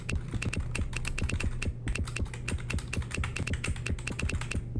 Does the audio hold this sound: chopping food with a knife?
no